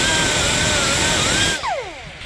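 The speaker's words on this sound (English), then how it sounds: "We're gonna clean those channels here with the cookie wheel" A cookie abrasive wheel on a power tool scrubbing the front brake hub of a 2014-2019 Toyota Highlander: a loud, close, steady high whine that winds down sharply near the end.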